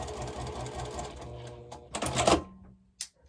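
A sewing machine stitches a pressed flowers quilt block, running in a quick steady burst that slows and stops, followed by a few short mechanical clicks and clacks.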